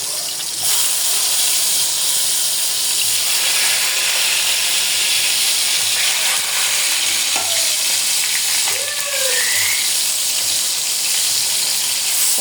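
Tomatoes sizzle in hot oil in a pan for a tomato mash, a steady close frying hiss throughout with a few faint clinks and scrapes near the end, no talking.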